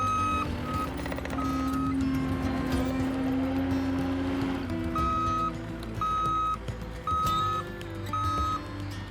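A mini skid steer's reversing alarm beeps in a regular on-off pattern at a pond construction site, with machine engine rumble underneath.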